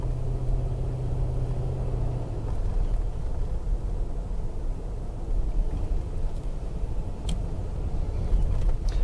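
A car rolls steadily toward a golf clubhouse on a resort drive, with a continuous low engine and road rumble close by and no talk.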